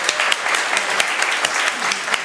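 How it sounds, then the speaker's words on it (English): Audience applause at a DLD Munich art and science panel for Steffi Czerny, a dense, steady round of clapping from a conference crowd that stays loud and even throughout, with no talking. "we should really give another big round of applause to Steffi Czerny"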